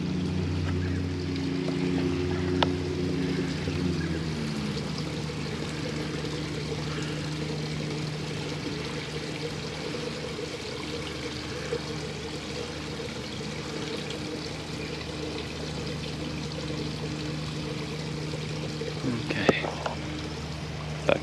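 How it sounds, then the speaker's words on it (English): Water flows steadily through a drain at Warrina Lakes in Innisfail, a constant rushing wash under a low hum, with a voice talking and a few brief knocks. "they got water going through there now"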